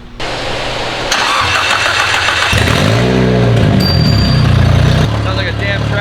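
A turbocharged car with a holed exhaust manifold and downpipe cranks and catches, then settles into a loud, coarse, tractor-like idle with rough pulsing exhaust, close by.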